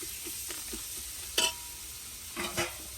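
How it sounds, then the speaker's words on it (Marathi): Tomatoes added to cucumber soften in oil as a spoon stirs them, with a quiet, low sizzle broken by a few scraping knocks and two brief louder clatters of the utensil against the pan. "टमाटर चांगलं मऊ करून घेऊ तेलात चांगलं मिक्स करून"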